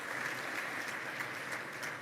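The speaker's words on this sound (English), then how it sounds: "Let's give her a warm round of applause." An audience claps steadily to welcome a panelist onto the stage at the inaugural Global AI Summit on Africa in Kigali. The applause is a dense, even patter that holds for the whole stretch without letting up.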